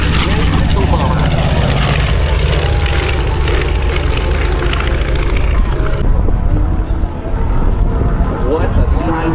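A USMC PBJ B-25 Mitchell bomber of the Devil Dog Squadron roars past at the Beaufort airshow, its twin propeller engines a loud, rough, sustained drone that swells and then recedes, with crowd voices underneath.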